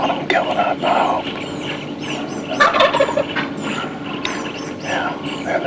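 Wild turkeys gobble repeatedly in the distance from a creek bottom during a spring turkey hunt, rolling calls over steady outdoor ambience with some nearby rustling.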